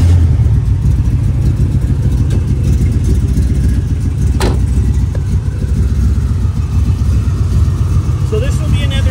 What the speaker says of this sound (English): I'm going to fire it up, let you hear it.